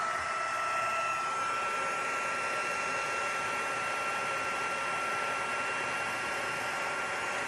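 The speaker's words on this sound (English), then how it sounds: "Let's turn the heat tool on." A heat embossing tool blows steadily at close range for the whole stretch, a constant airy roar with a thin whining tone riding on top, used for heat embossing a Stampin' Up! Merry Snowflakes card.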